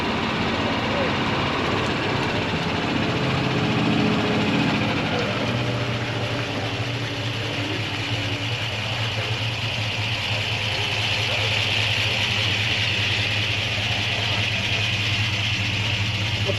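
A Shelby Hertz car idles and pulls out at a busy outdoor swap meet, a steady low engine rumble running beneath crowd noise and nearby voices.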